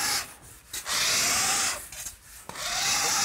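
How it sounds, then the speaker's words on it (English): A grill scrubber scours glue off a plaster wall with steady, loud abrasive rubbing strokes, broken by two short pauses. "just scrub it down, keep rinsing it off"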